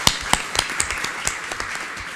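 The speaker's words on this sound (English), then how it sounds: "give them a round of applause" A modest round of audience clapping, scattered individual claps at first, then settling into a steady patter for a couple of seconds.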